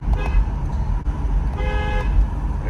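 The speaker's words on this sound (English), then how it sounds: "This is the stock horn with the windows down." Stock horn on a Toyota car honked with the windows down, giving short harmonic blasts, one near the start and a stronger one near the end, over steady engine and road noise from inside the cabin.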